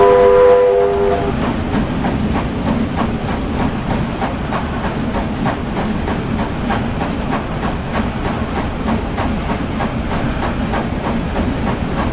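A steam train whistle in the Roblox Wild West game sounds once, loud and brief, at the start. It gives way to the steady rhythmic clatter of the train rolling along the tracks.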